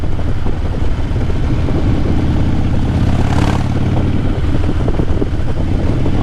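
Motorcycle engine and aftermarket exhaust pipes heard while riding, a loud continuous low drone mixed with heavy wind rush that swells slightly midway.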